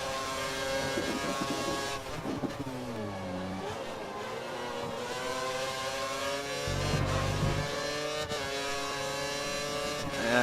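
An F1 2013 racing-game car drones with a steady engine note while running over gravel beside the curb at Bahrain, the gravel adding a rough rumbling texture under the continuous motor sound, with no talk.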